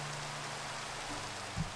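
Steady soft rain hiss falling in the Minecraft SkyBlock world, a continuous faint wash of droplets with no voices over it.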